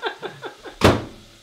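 A household door pushed shut with one loud, close thump and a short fading rumble, preceded by a few quick faint chirps.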